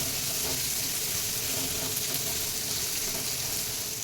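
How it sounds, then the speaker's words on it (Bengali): Chopped onion, garlic and green chilli fry in hot oil, a dense, even sizzle that stays loud and continuous throughout, with no voices. "পেঁয়াজ কুচি করে রেখেছি ছোটো ছোটো করে এটা দিয়ে দেবো রসুন কুচি দিয়ে দেবো অল্প আর কাঁচা লঙ্কা কুচি দিয়ে এটাকে বেশ ভালো করে ভেজে নেবো"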